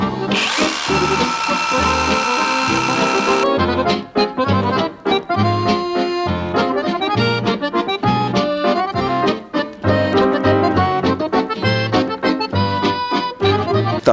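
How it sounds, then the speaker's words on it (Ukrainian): A cordless Revolt rotary hammer with an 8 mm bit drills holes into an unreinforced concrete curb, starting with a loud whining spin and then settling into a close, continuous rapid hammering clatter with slight dips in intensity. "для початку я встановив сверло діаметром 8 мм."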